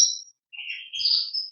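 A Spanish timbrado canary sings a short, high, bright phrase of trills and chirps, clear and close with a brief gap partway through.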